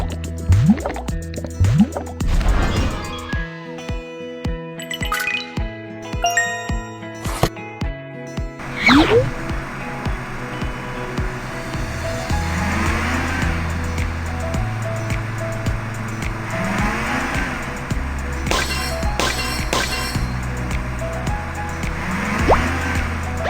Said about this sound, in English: Insert the gas card to fill up the car